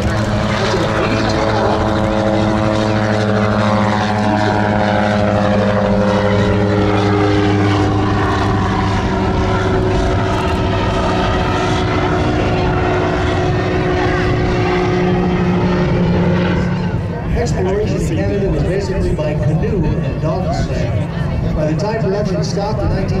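A diesel V-12 de Havilland Beaver floatplane flies by at the 2023 Boundary Bay Airshow, its loud, droning propeller beat holding steady and then dropping in pitch as it passes, with crowd voices faintly underneath.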